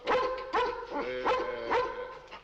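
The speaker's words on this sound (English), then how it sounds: "The dog is a man's best friend." A dog barks four times in an even rhythm, moderately close and fairly loud, with a slightly whimpering, yippy edge and no talking.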